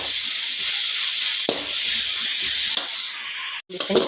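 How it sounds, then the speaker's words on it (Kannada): Vegetables with salt fry in a pan for masala chitranna, giving a continuous close hissing sizzle with light stirring scrapes, which briefly cut out near the end. "ಇದು ಚೆಂದ ಫ್ರೈ ಆಗಲಿ ಫ್ರೆಂಡ್ಸ್, ಬೇಯಬೇಕು ತರಕಾರಿ."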